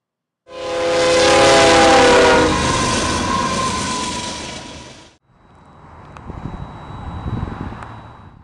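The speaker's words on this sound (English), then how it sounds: "This is the same train that we paced along the highway, except now we are a little closer and we are at a grade crossing." A freight train passes a grade crossing at close range, its horn blaring loudly over a rumbling roar, then the horn stops and the wagons keep rolling by with clattering, rhythmic wheel noise.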